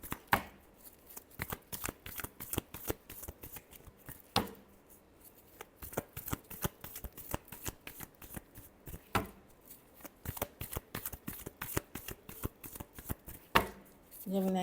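Tarot cards being shuffled by hand, a close, fast rhythmic riffling and slapping that repeats in several rounds with brief pauses between them.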